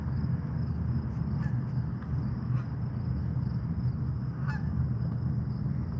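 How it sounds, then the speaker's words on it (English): Geese honk in a few brief, faint calls over a steady low rumble of water at a large reservoir dam, with no talking. "Look, there goes the geese"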